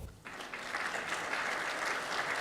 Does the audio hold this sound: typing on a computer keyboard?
no